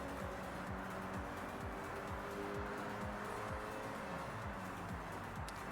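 Racing car in the video game Forza Horizon 6, its engine droning steadily and loud throughout, with repeated quick gear-shift dips and revving patterns running under a constant roar.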